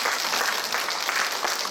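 Audience applause at the close of a local culture and history lecture at a cultural center in Bucheon, a dense, steady clapping wash that holds evenly throughout, with no talk over it.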